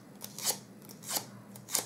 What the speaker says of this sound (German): ziehe ich das Papier ein paar Mal über das Falzbein